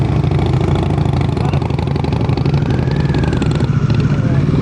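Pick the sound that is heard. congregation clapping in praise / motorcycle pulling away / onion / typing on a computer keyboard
motorcycle pulling away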